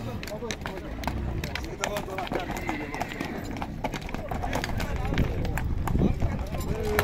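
A grey horse over 1.70 m tall at a horse market in Bishkek, hooves clip-clopping steadily amid crowd noise and people talking nearby.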